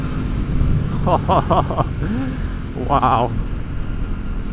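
A 2026 Aprilia Tuono 660 Factory motorcycle drones as a steady low engine rumble while riding, under a rider's close, wind-buffeted exclamations.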